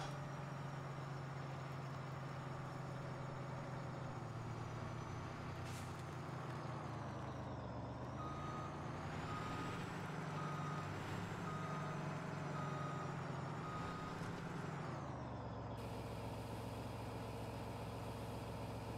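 A truck in Farming Simulator 17 drives with a steady, fairly quiet engine drone and shifts gears, its revs dropping and climbing again. A thin, constant high beeping tone runs alongside.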